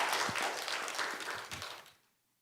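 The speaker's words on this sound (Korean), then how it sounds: "하나님께 영광의 박수 올려드리겠습니다" A church congregation applauds warmly, a dense wash of clapping that holds steady and then fades out to silence.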